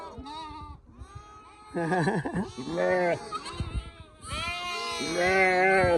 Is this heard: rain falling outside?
no